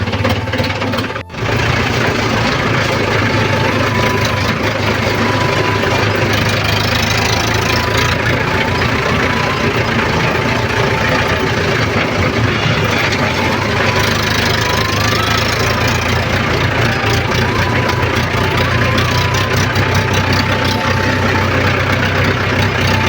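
A tractor engine runs steadily nearby in a rural field planted with young casuarina saplings, a loud continuous low knocking rumble that holds throughout with no talk.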